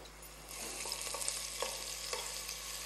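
Garlic sautéing in a cooking pan, a steady soft sizzle with faint stirring scrapes and clinks throughout, alone without talk.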